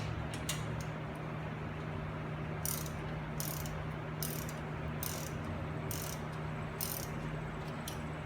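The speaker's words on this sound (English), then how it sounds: "So I put one bolt through the back and I'm gonna try to pull it in." Ratchet wrench tightening a bolt to draw a front wheel bearing into the hub of a Nissan 350Z, giving a run of sharp, evenly spaced clicks close by over a steady low garage hum, with no talking.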